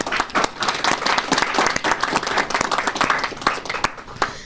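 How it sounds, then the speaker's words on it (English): Applause rises from people gathered at a city government press conference, a modest group clapping with distinct, uneven individual claps rather than a thick roar, heard close and without talk. "So I think Commissioner Owen deserves a round of applause."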